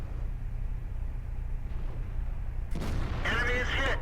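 A T28 tank fires its cannon in World of Tanks: a low engine rumble runs steadily, then one sudden, loud, close blast erupts near the end and rings out with a rough, reverberating tail.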